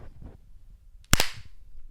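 One sharp, loud hand clap cuts through low background murmur, a crisp single snap with a short ringing tail.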